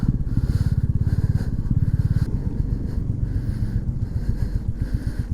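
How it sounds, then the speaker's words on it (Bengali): A motorcycle engine revving while riding offroad on silty hill ground in South Sikkim, the rear wheel slipping; a steady close buzzing drone with pulsing throttle and rough clattering as traction comes and goes. "মনে হচ্ছে আবার কিলে পড়বো, আবার চাকা স্লিপ খাচ্ছে।"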